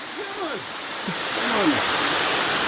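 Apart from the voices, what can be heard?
Champagne River falls, Saint Ann, Jamaica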